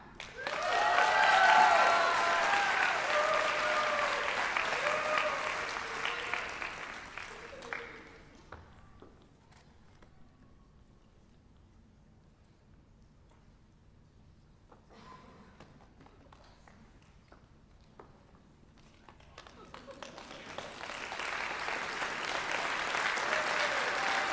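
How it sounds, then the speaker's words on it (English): An audience at a nurses' pinning ceremony breaks into loud, dense applause, which fades to near quiet with a few scattered claps and then swells again into a full round of clapping. "Let's give one more really big round of applause for our graduates."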